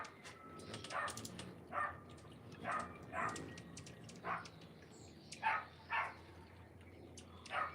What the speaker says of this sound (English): I don't know what everybody's barking about.